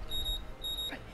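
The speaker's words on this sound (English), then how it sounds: "An alarm?" In an anime episode of One Piece, an alarm sounds as repeated high electronic beeps in two short bursts, fairly faint, under low background noise.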